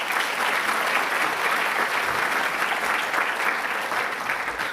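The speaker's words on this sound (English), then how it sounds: "A round of applause to my magician and my Iron Man of the evening." Sustained applause from a large audience at an awards ceremony, dense and steady clapping filling the whole stretch with no pauses.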